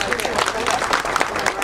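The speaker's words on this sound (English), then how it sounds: "So friends, if you're here, give yourselves a round of applause" Audience applause at the opening of the Silver Lake Library, a dense patter of clapping hands from a crowd, steady and fairly loud throughout with no voices over it.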